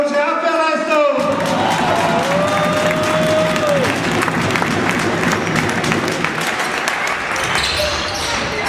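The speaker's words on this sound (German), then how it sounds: "Und jetzt gibt es aber einen kräftigen Applaus für unsere Abwehrleistung." Crowd applause at a handball match between ATV and Hollabrunn, loud sustained clapping and cheering in an indoor hall, with a whistle-like tone early on and an announcer speaking over it.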